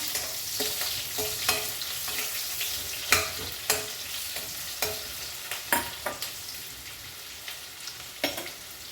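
Mustard seeds crackle and splutter in hot oil for a curry of cucumber, gongura and green chillies, giving sharp irregular pops over a steady close sizzle, with no talking.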